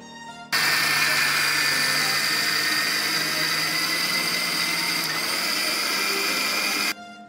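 An electric wet grinder churns soaked black gram (maskalai) dal into paste: a loud, steady whirring whine cuts in abruptly, runs unbroken for about six seconds, then stops sharply.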